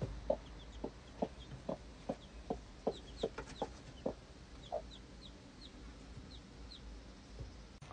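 Chickens cluck in a garden setting, a series of short, fairly faint clucks in an irregular rhythm with higher squawks mixed in, heard alone without any talking.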